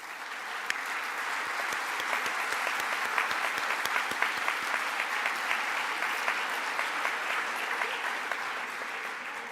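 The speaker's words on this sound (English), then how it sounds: "let us have another round of applause for you, please" A large audience at a programming contest opening ceremony gives sustained applause for staff and volunteers, a dense, even wash of clapping that holds steady the whole time without talk.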